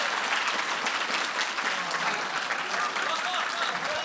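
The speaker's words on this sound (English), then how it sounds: "Applaud, please." An audience at a lightning talks session applauds in a dense, continuous wash of clapping that holds at an even level for the whole stretch, with crowd voices mixed in.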